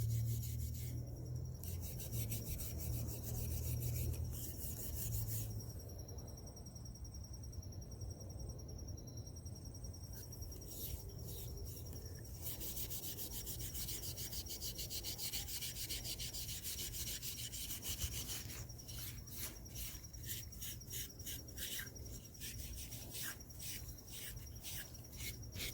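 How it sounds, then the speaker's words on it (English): Steady rubbing and light rasping as Howard Restor-A-Finish is scrubbed into an antique wooden snuff box, a continuous close scratchy texture lasting throughout with no talking. "I'm scrubbing it just a little bit so it gets really inside that wood and soaks in there."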